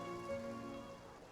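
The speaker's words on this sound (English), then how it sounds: "It rained for longer than I suspected." Rain falls in the video game Genshin Impact, a steady soft patter under sustained musical tones, quiet and continuous throughout.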